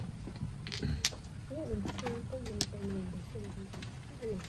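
A bird, apparently a dove or pigeon, gives soft repeated cooing calls in a steady rhythm, with people talking throughout and partly masking the coos.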